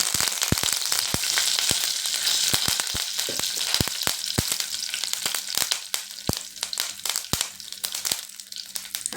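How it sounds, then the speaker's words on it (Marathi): Cumin seeds crackle and pop sharply in hot oil for a stuffed bitter gourd curry, a dense sizzle broken by loud, irregular snaps throughout, with no one talking. "तर तेल तापलेले जिरे घालायचे."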